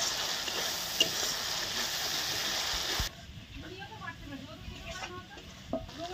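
Mutton with sour yogurt frying in oil in a pan, stirred with a loud steady sizzle that drops abruptly midway to quieter crackling and scraping, with a few knocks of the utensil.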